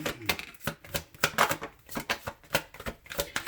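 Tarot cards being shuffled by hand: a close, steady run of quick papery riffs and taps, with about a dozen crisp bursts over a few seconds and no voice.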